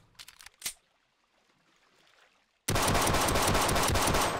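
Gunfire in the game They Hunger: a couple of sharp shots early, a quiet pause, then a sudden loud burst of rapid automatic fire that runs without a break to the end.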